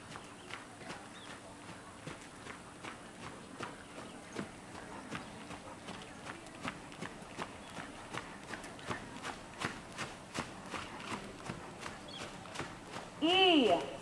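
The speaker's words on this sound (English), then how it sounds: "Working trot rising." A horse moves in a working trot at a schooling show dressage test, its hooves beating a steady two-beat rhythm on the arena footing, moderately close, with a brief louder noise near the end.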